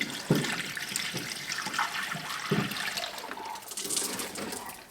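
Liquid poured from a bottle into a container until it is full, a steady trickling splash with a few louder bursts, close by and without talk.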